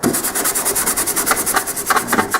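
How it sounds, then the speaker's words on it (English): Old primer being scraped and scratched off a metal panel during riveting work, a close, steady run of rapid rasping strokes with a regular back-and-forth rhythm and no talk. "removing the primer, the old primer from this side, and getting it scratched up underneath"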